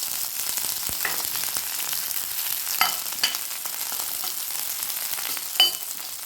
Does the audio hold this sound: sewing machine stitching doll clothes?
no